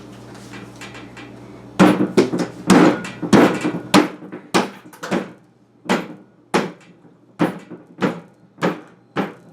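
Fermenter lid being pressed and sealed back on during a brown sugar addition to a homebrew, giving a run of about a dozen sharp snapping knocks and clicks, close and fairly loud, at a steady uneven rhythm with no talking.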